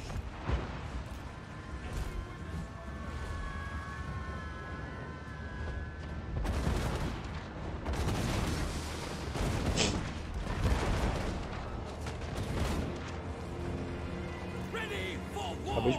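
Cannon and steam shots from a steam tank in the strategy game Total War: Warhammer 3, repeated booming blasts and crackling bursts amid battle noise, with someone talking over parts of it.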